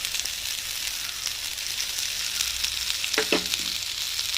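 Steady, close sizzling of a thick ground masala paste for prawn vindaloo frying in a pan, with a soft stir or scrape near the end and no voices.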